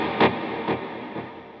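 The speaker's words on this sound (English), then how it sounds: "So a longer decay on both the reverb and the delay." An electric guitar through overdrive, set with long reverb and delay decay, strikes three chords in a row, each leaving a lingering, washy tail that slowly fades, with no voices.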